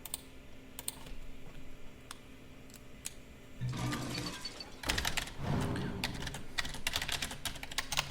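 Computer keyboard typing during a Hearthstone arena session: a few scattered key clicks at first, then bursts of fast, dense clacking up close, with a faint background hum and no speech.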